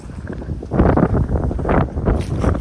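Gusts of wind over an open farm field buffet the microphone in uneven bursts, a broad rough rushing that swells and fades, loud and close.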